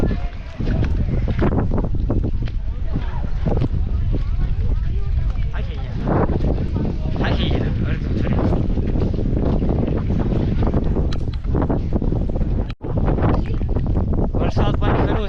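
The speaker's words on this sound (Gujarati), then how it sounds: "વરસાદ પણ શરૂ છે અને પવન બહુ છે" Strong gusting wind with rain on Tarsingdo hill, a rocky hillside in monsoon season, roaring and buffeting the microphone continuously with rumbling gusts, loud and close, while people talk underneath.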